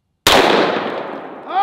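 A .44 Magnum revolver shot into a 1.5-inch fiberglass slab: one sudden, very loud crack from silence, followed by a rough, ringing decay lasting over a second.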